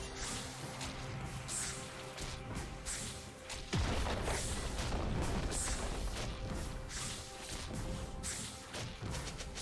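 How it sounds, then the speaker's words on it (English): A turret collapsing in a League of Legends match, a heavy booming crash at the midpoint with rumbling debris, set among repeated sharp game effects and background music. "Red team's turret has been destroyed."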